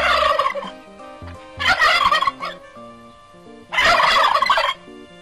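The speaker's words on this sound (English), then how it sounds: "These turkeys are getting a little bit reckless." Several turkeys gobbling loudly in close range, two bursts of rapid rattling calls separated by quieter clucks, no voices.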